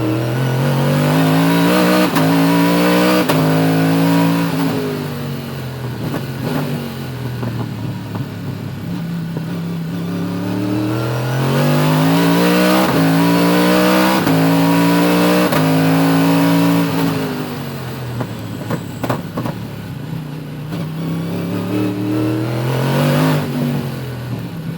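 Aston Martin race cars in a 2023 DFR Aston Martin race set off on the first lap, engines loud and close, revving hard through repeated rising gear sweeps that continue without pause.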